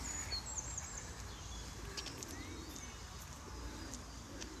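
Pigeons coo softly in the morning outdoors amid steady outdoor background noise, with faint scattered chirps from other birds.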